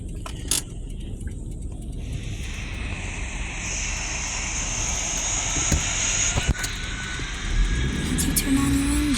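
Aircraft engine in a pilot training flight simulator game, a steady hum with a rising whine building through the middle, accompanied by occasional clicks and thumps.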